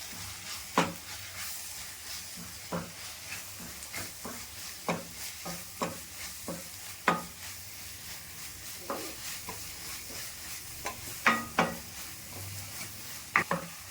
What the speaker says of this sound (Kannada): ಇವಾಗ ಎಲ್ಲ ಮಿಕ್ಸ್ ಮಾಡ್ಕೊಂಡ್ಬಿಡೋಣ ನೀಟಾಗಿ